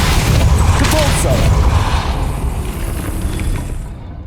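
Depulso spell cast in Hogwarts Legacy, a loud burst of forceful whooshing impact with rumbling crash, sustained then gradually fading out to silence.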